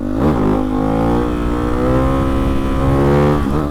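A Hyper 698 motorcycle with a full titanium exhaust revs loudly and up close, with a sharp rise at the start, a steady rumbling hold through the middle and another climb near the end, with no voices over it.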